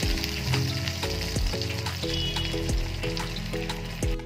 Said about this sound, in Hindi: हमने अपने सारे रोल्स फ्राई करने के लिए डाल देने हैं और ये मीडियम आंच पे ही तलना है